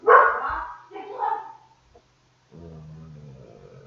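A dog barks a few times up close, loud sharp yelps in quick succession, followed by a low steady hum.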